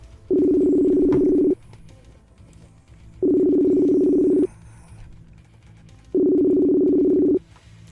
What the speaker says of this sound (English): I'm calling you, homie. It's ringing, bro.